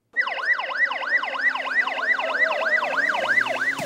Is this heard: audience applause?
no